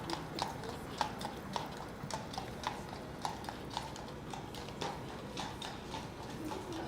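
Horse-drawn carriages pass along a New York City street on Christmas Eve, with many hooves clip-clopping in overlapping irregular rhythms over constant city traffic rumble.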